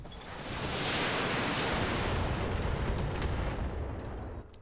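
Mech weapons firing all at once in the RogueTech video game, a single sustained roaring barrage that swells quickly and holds for about four seconds before cutting off, loud and dense.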